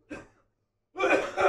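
A single short cough sounds close up, then after a brief silence a longer burst of harsher coughing and throat clearing follows, fairly loud and with no speech over it.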